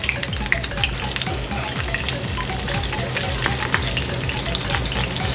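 An over-easy egg sizzling and frying in a pan for tapsilog, with a steady loud crackle and spatter close up and some stirring or scraping movement, no voices.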